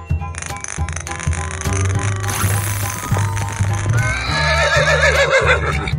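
A horse whinnies over lively cartoon music, its high wavering neigh rising clearly in the second half among other animal sounds.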